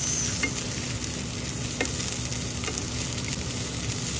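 Bean sprouts, 200 grams, stir-frying in a hot pan, with a steady continuous sizzle and occasional scrape or toss throughout, fairly loud and close, no voices.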